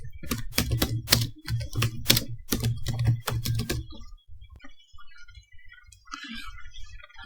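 Fast typing on a computer keyboard, a quick run of sharp close clicks for about four seconds, then a few scattered faint taps and quiet room noise.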